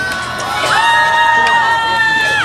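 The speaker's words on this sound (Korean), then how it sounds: "박수 한번 보내주세요." A crowd at a Saturday protest rally against the comfort women agreement cheers loudly, with a long sustained shout rising above broad crowd noise and possible clapping, close and continuous.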